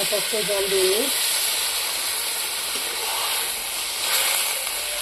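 Chicken sizzling in a hot pan as it is fried down for a kosha curry with fried potatoes, a steady close hiss throughout with a brief clatter near the start.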